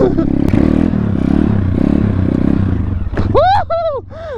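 A pit bike's small single-cylinder engine running while ridden off-road over bumps, a loud, close, steady buzzing drone that dips and rises as the throttle changes, with clattering and rattling near the end.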